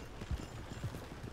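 Horse hooves clip-clop in the Red Dead RP video game, a few soft low thuds spaced unevenly, quiet and muffled under a faint background hiss.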